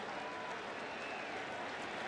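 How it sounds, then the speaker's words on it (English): Oakland bench clapping during a 1992 ALCS playoff game against Toronto, a faint continuous patter of applause blended into distant stadium crowd noise. "they got to be clapping on the Oakland bench"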